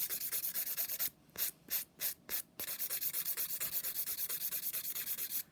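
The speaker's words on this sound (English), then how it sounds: "once you start filing the surface, you'll be able to start seeing the neat smile line coming underneath" A nail file rubs quickly back and forth across a nail surface, with rapid, regular close-up scratching strokes, a brief stuttering pause partway through, then steady filing again.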